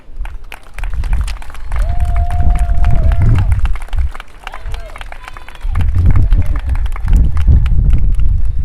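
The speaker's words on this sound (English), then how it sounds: "I want everybody to give these people in the village a warm round of applause" A crowd at the Gale Academy commencement in Chicago applauds the village graduates: loud, close, irregular clapping mixed with cheering and crowd noise, swelling and dipping over several seconds, with a brief whistle-like tone partway through.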